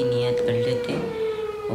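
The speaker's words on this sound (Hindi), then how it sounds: "सायरन बज गया, इसका मतलब अब सहरी का टाइम हो चुका है ख़त्म" A steady siren marking the end of sehri during Ramadan holds a single sustained tone with a slight downward drift, sounding over a low background and a brief voice.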